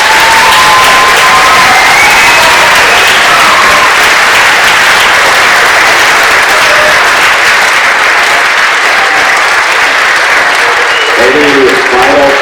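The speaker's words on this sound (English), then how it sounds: "could we please have a really big round of applause for Nathan?" Loud, sustained audience applause filling the room at an Orange Shirt Day presentation, with scattered cheers and a voice briefly emerging near the end.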